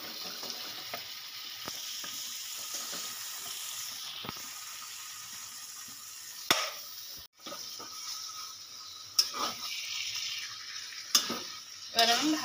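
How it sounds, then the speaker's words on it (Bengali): Marinated chicken goes into a pan of hot spiced gravy, giving a soft continuous sizzle beneath scattered clinks and scrapes of a spoon against cookware, with a few sharper knocks near the end; fairly quiet and close. "এবার আমি দিয়ে দেবো ম্যারিনেট করে রাখা চিকেনগুলো।"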